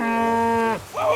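Cow in Kingdom Come: Deliverance II lets out a single loud, close moo that holds steady before sliding down in pitch, followed by a short rising tail.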